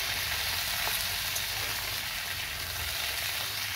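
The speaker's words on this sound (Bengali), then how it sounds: "আলুগুলো সামান্য ভাজা হয়ে গেলে আলুর মধ্যে কুমড়োগুলোকে দিয়ে কুমড়োগুলো একটু ভেজে নেব" Potato and pumpkin pieces fry in hot oil in a pan, giving a steady, dense sizzle that stays constant and close throughout, with no talking.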